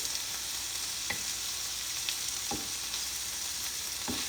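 Shrimp frying in a pan give a steady close sizzle, with a few sharp clicks and pops as they are stirred and flipped, and no voices.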